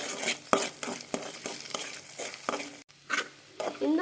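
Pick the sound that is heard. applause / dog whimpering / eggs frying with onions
eggs frying with onions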